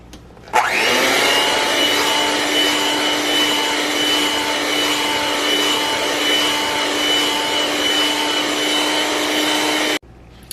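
An electric mixer blends New York cheesecake batter, its motor starting abruptly with a loud, steady whine that holds evenly for about nine seconds before cutting off, with no voices over it.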